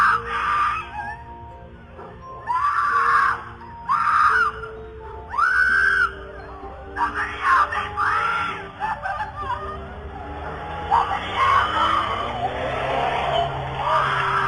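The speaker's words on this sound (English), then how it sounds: "a woman was heard screaming, "Help me, somebody help me," in a car that was speeding down the neighborhood" A woman screams for help from a speeding car in a residential neighborhood, her shrill, repeated cries carrying over tire skids and engine noise, some distance from the listener.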